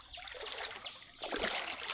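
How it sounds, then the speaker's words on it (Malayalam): Rainwater streams and trickles over rocks in a flowing channel, a steady close splashing wash that swells louder toward the end. "നല്ല വെള്ളം വന്നിട്ടുണ്ട് ഇവിടെ"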